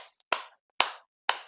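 Three crisp hand claps, evenly spaced and close, with quiet gaps between them.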